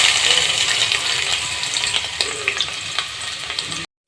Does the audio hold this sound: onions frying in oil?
yes